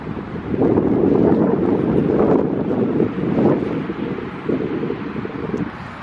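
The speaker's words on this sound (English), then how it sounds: "I don't even know if you can hear me because of the wind." Outdoor wind buffets a microphone at a former retirement home site, a loud, rumbling, continuous gusting roar that surges and eases throughout, with no speech.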